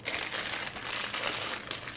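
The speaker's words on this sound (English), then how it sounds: "open up the box and pull out the cake mix" A cake mix box is opened and the mix pulled out in a close, continuous rustle of crinkling paper and plastic, with no talking.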